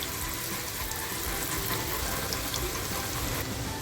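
Chopped onion dropped into hot oil in a small kadai, a loud continuous sizzling hiss close by, with no talk.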